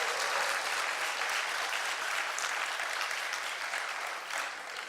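An audience in a church applauds older men who served their country and families, a steady, even wash of many hands clapping that holds for several seconds before easing slightly at the end.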